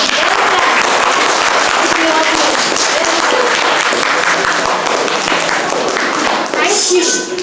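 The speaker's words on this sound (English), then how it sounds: "Give a big clap for him." An audience claps loudly and steadily, a dense round of applause that continues throughout.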